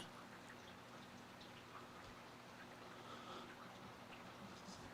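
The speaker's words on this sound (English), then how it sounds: "that must be the downpour of rain going on outside" Soft, steady downpour patters outside, with faint scattered drips and ticks over a constant low hiss; no talking.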